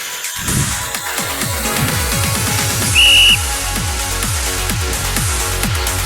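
During a home workout class, a single short, shrill whistle blast cuts in clearly over steady upbeat music with a thumping beat.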